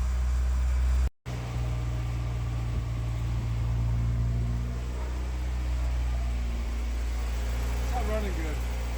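A Porsche 944 engine, just started, runs with a steady low hum that sounds uneven and rough, while people talk over it and a brief dropout occurs early on.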